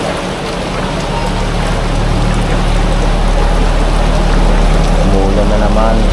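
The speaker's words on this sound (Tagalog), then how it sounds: "Ayun na naman ang ulan." Heavy rain pours steadily during a flood in the Philippines in a loud, continuous wash of hiss and splatter, with a low rumble underneath throughout.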